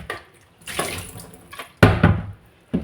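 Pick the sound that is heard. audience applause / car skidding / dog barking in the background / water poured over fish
water poured over fish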